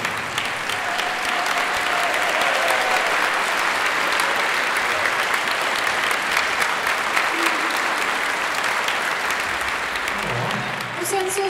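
Steady, loud applause from a concert audience after songs at an evening spring concert, a dense wash of clapping that fills the room without a break and fades slightly at the end.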